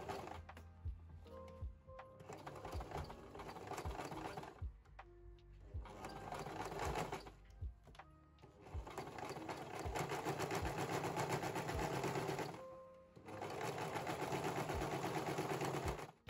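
A sewing machine top-stitches the lining of a cottagecore-style dress, running in several long whirring stretches with brief stops between, steady and close with clear mechanical clatter.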